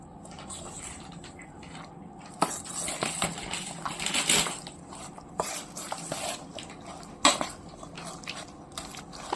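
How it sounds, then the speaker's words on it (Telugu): Chicken pieces being mixed with egg and spices in a metal bowl for Chicken 65, giving irregular clinks, scrapes and wet stirring sounds, close and fairly quiet with occasional sharper knocks. "ఇప్పుడు ఈ ఇంగ్రీడియంట్స్ మొత్తాన్ని మనం మిక్స్ చేసుకోవాలి."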